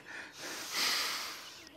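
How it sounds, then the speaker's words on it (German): A person takes one slow, deep breath in during a guided breathing exercise on a talk show, a soft, breathy inhale rising and fading over a couple of seconds, heard close and alone. "Und wir atmen ein."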